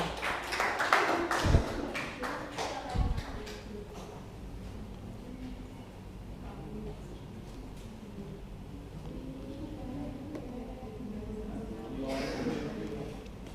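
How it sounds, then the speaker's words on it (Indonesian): A class applauds a student presenter during a microteaching practice session: a short burst of clapping at the start fades out within a few seconds, and a single voice then speaks over quiet room noise. "Berikan tepuk tangan untuk Mbak Aya"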